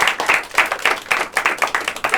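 A comedy show audience claps in a brisk, fairly even rhythm, with sharp clap peaks repeating about four times a second, loud and close, without talk.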